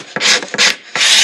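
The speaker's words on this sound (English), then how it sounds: "So I'm going to come in with just a razor blade" Razor blade scraping hardened Z-Poxy finish runs off the back of a guitar body, three close, loud rasping strokes in quick succession with short pauses between.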